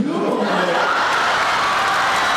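A large audience at a talk by Wilmer Valderrama at UTRGV breaks into laughter and cheering, a dense, loud roar of many voices that holds steady throughout.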